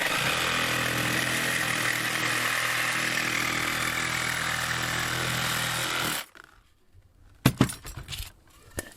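A power tool cuts through a bolt pushed through a piece of wood during toilet carrier plumbing rough-in, a loud steady grinding whine for about six seconds, then it stops and a few sharp clanks and handling knocks follow.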